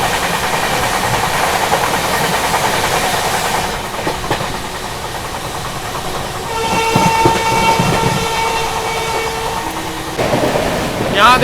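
Bandra–Gorakhpur Humsafar Express passing alongside a moving train, a steady loud rumble and clatter of wheels on rails with a sustained horn tone sounding partway through, close and continuous.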